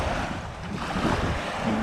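Strong wind blowing across the Bang Phra reservoir during bottom fishing, a loud continuous rushing roar buffeting the microphone with no talk.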